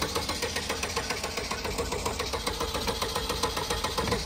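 Carbureted Ford F150 pickup engine revving hard, a loud, close, continuous roar with a fast rhythmic pulsing throughout and no talk over it.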